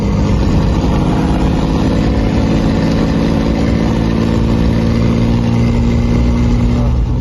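A Nissan Patrol with a 5.9L Cummins diesel idling, a steady, loud, rumbling drone that holds continuously with no other sounds.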